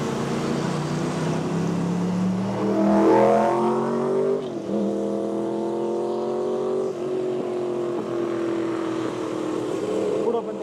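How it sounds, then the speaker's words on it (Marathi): Heavy road traffic: many vehicles rumble past, with drawn-out horn tones rising and falling over the steady, close roar of engines. "पुढं पण तेवढ्याच गाड्या आहेत,"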